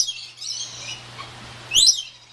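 High, quick bird chirps at a zoo at the start, then a brighter burst of tweets near the end, over a low steady hum.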